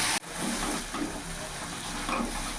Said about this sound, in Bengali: এবার কিছুক্ষণ ধরে ভালো করে কষিয়ে নেব।